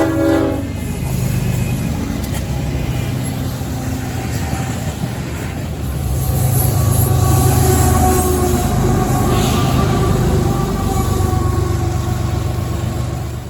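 A Union Pacific train with distributed power units on a City Rail consist rumbles past close by, with a steady heavy roar that swells around the middle, a horn sounding and wheels clacking, and no talking.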